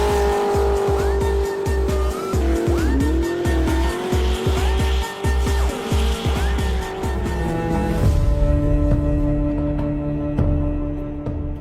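Race cars roar past one after another with rising and falling engine notes and squealing tires, loud and continuous, ending on a steady engine drone.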